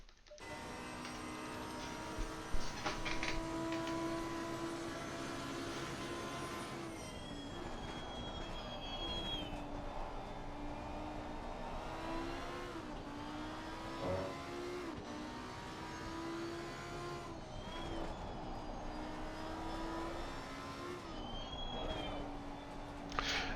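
A race car at full speed on a lap of the Zandvoort circuit, heard from the cockpit, with a loud engine revving up and down through repeated gear changes and wavering pitch sweeps as it brakes and accelerates through corners.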